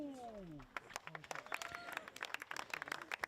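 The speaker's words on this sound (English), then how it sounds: "So it looks like we're getting some clapping here." A crowd at a World Team Disc Golf Championships gold medal match between Australia and Estonia claps in a dense burst of sharp hand claps that builds and continues, with a voice talking at the start.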